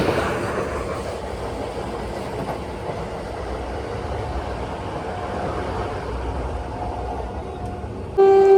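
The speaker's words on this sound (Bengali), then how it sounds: "ফ্ল্যাট 115তে ওভারটেক করলো আজিমগঞ্জ কবিগুরু এক্সপ্রেস।" The Azimganj Kabiguru Express overtakes on a parallel track, heard from aboard another train as a steady rumbling roar of wheels and rail. A sharp horn toot cuts in at the very end.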